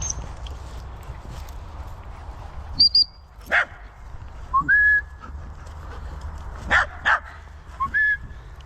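A dog on a walk makes a few short barks and yelps with whistle-like calls in between, over steady outdoor background noise.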